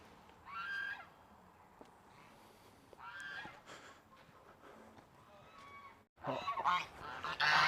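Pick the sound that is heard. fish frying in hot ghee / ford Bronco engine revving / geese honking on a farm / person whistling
geese honking on a farm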